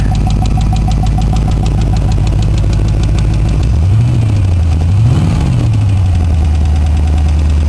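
A car engine with a knock idling loudly up close, with a rapid knocking tick, then revving up twice, the pitch rising and falling each time.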